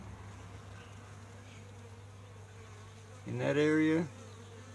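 Honeybees from a swarm humming steadily at a hive, a soft continuous buzz close by, while someone speaks briefly near the end.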